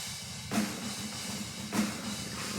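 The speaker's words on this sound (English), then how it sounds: "here it is without that convolution reverb" Programmed MIDI drum kit for a metal band, played dry without room reverb, with two heavy hits about a second apart over dense, steady drumming, close and loud.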